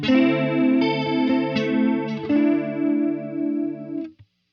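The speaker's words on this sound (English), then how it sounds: "Our chorus in front of the amp again sounds like this." Electric guitar through a Line 6 Helix with chorus placed before the amp rings out in shimmering, wavering chords, a few strums sustaining loud and close before stopping abruptly.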